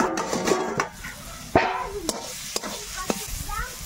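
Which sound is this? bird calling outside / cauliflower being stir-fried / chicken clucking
cauliflower being stir-fried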